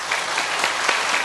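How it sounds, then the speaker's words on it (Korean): A church congregation applauds at a Sunday service to welcome a newcomer, a brief burst of dense, steady clapping from many hands with no voices over it. "우리 인사하실 때에 박수로 환영하는 시간을 갖도록 하겠습니다."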